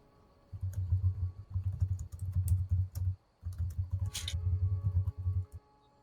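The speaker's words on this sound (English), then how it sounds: "I apologize for my typing sounds." Steady bursts of computer keyboard typing, close and fairly loud, run in quick rhythmic clusters with a brief pause in the middle and no one talking.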